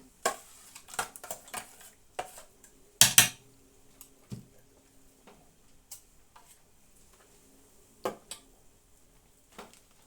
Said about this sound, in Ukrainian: Перемішаю.